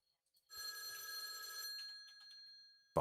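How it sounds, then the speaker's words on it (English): A telephone rings in a sustained electronic tone lasting over a second, then fades under background noise before a sharp louder burst at the end. "Phone call."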